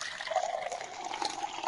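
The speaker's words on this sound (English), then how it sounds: "Then we add some water in this silica clay mixture" Water poured into a bowl of silica and clay mixture for molding sand, a steady close trickling and splashing pour lasting under two seconds, no voices.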